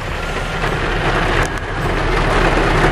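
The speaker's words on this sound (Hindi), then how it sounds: "तो इस टाइम पे खूब बारिश हो रही है" Heavy rain drums steadily on a parked car at a lakeside attraction in Kenora, Ontario, a dense, continuous hiss with low rumble throughout, no talk over it.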